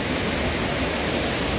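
Curug Cicadang waterfall on a foggy afternoon in the hills between Bandung and Cianjur, a steady broadband roar of falling water with no voices.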